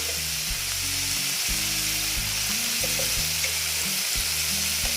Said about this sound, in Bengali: দেখো এটা ভাজা হচ্ছে